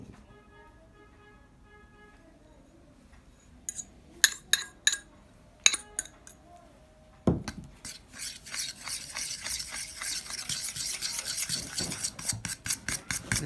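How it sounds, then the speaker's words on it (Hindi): Crushed Oreo biscuits being stirred into cake batter in a bowl, starting with a few sharp clinks of a utensil against the rim, then settling into continuous rasping, scraping strokes that grow louder toward the end. "इसको आपने अच्छे तरीके से इसमें मिक्स करना है।"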